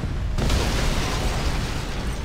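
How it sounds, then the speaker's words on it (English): A bomb explosion in the Spider-Man 3 video game bursts after a brief quiet start into a loud, sustained broadband roar that fills the rest of the moment, with no voices. "I've got these bombs totally figured out now."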